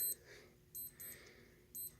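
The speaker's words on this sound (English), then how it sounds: "That used to be the alarm for me to put my tools down and leave the shop and go to work" An alarm clock goes off in a workshop, sounding as short bursts of high electronic beeping in a repeating pattern, faint and quiet against a low background hum.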